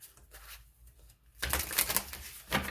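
Tarot and oracle cards riffle and slap together in a quick shuffle, a soft crisp burst of flicking card edges after a quiet pause, close and alone.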